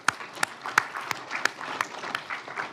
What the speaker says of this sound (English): round of applause for TAs